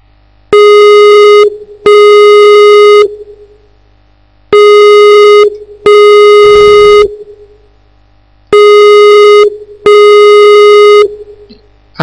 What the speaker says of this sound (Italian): Allora, Skype squilla, Salvatore, ci dovresti rispondere.